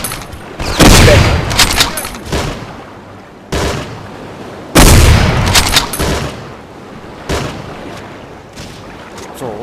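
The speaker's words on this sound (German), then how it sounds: "einen Schuss noch" Gunfire in the video game Hidden and Dangerous 2: loud bursts of automatic fire and booming shots come in several clusters, sharp and close, with short pauses between volleys.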